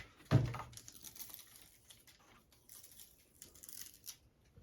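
White backing peeled off double-sided tape while fitting window insulation film gives one sharp, close ripping burst near the start, followed by faint, scattered crinkling and rustling.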